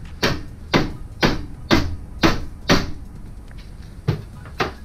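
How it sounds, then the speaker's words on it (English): A mallet strikes a steel shaft on a Jeep TJ rear tube bumper being fabricated, giving about nine sharp, loud metallic knocks in a steady rhythm, close by with no talk. "I'm gonna hit it with a mallet."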